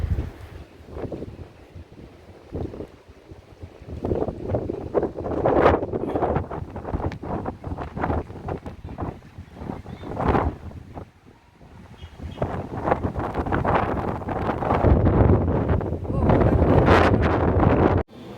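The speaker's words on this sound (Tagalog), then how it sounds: "Grabe ang lakas ng hangin." Strong gusting wind buffets the microphone in loud roaring bursts that rise and fall throughout.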